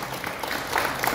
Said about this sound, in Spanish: Fuerte aplauso para esos dos